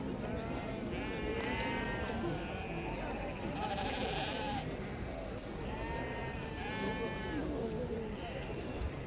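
Dutch Spotted sheep bleat repeatedly at an agricultural show, the calls overlapping and rising over a steady crowd murmur and a commentator's amplified voice, with some near and some farther off.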